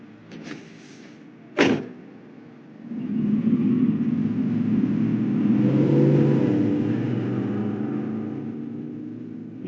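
Car in a Batman: Caped Crusader episode, a door thud followed by an engine that rises into a loud sustained rev as it pulls away, fading slightly at the end.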